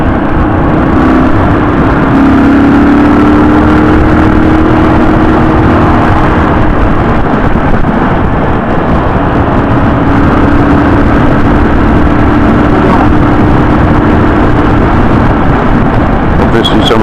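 A car engine, one of the cars on an Isle of Man road lap, runs steadily throughout with a rising and falling engine note, heard from inside or near the vehicle under continuous talk.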